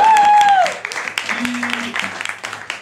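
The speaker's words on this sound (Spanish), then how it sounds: "¡Aplauso!" Audience applause follows a beatbox performance: a brief sung tone gives way to scattered, close hand clapping that carries on, slightly uneven, for about two seconds.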